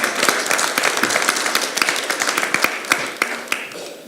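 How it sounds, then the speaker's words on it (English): An audience applauds a panel at a Pride Q&A event, a dense burst of clapping with sharp individual claps standing out, loud and close, lasting throughout without speech. "give a round of applause, our first round of applause for our fabulous panel"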